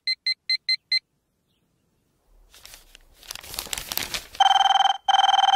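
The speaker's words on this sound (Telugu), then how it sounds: "అబ్బా, ఈ ఫోన్ చంపేస్తున్నా" A telephone in a comedy scene: five quick electronic beeps, a pause, some rustling and crinkling, then two long, loud ringing bursts close up.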